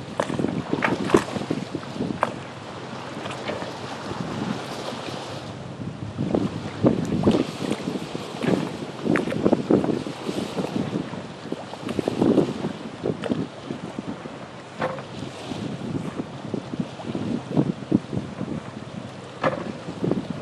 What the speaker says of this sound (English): got a pretty good crosswind, but what I'm doing is I'm just letting the wind guide me in